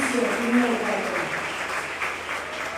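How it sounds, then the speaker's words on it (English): Applause from an audience at a student parliament session for building number 4 at a university colloquium, a moderate, steady patter of clapping that holds fairly even and then slowly tapers, with some voices mixed in. "Please big round of applause for building number 4"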